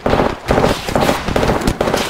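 Rapid gunfire in the Apex Legends video game, loud and close, with bursts repeating in a steady rhythm roughly every half second throughout.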